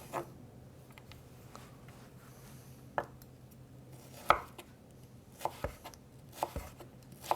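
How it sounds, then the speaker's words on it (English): A knife chops turnip slices into 5 mm sticks on a cutting board, giving sparse, quiet, irregular knocks with a louder cluster of cuts partway through. "Cut each slice into 5 mm sticks."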